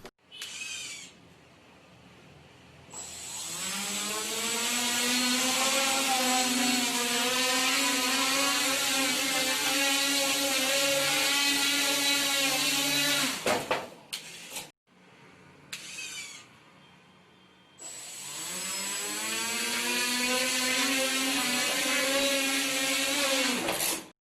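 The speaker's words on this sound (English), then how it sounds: "So this thing is powered by 2400 kV 2012 motors, brushless DC motors" Brushless DC motors on a flying RC car (2400 kV 2012 motors on a 2200 mAh 3-cell LiPo) whine up to a loud, steady high-pitched drone, cut out briefly, then spin up again with a rising pitch.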